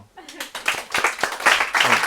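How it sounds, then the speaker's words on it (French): A small audience at a public hypnosis session claps for a woman named Simone, a short burst of close, uneven hand claps mixed with voices talking. "On l'applaudit bien fort."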